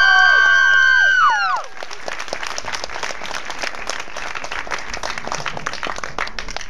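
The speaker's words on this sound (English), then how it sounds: "please give a warm round of applause to Max Lasser." A short musical sting slides downward and ends, then a stand-up comedy audience breaks into steady, lively applause with some cheering as a comedian comes to the stage.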